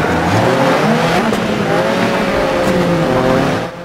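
Loud, continuous engine roar of a Peugeot Group B rally car in DiRT 4, holding a steady, slightly wavering pitch under load with tire noise, close and dominant before dropping off at the very end.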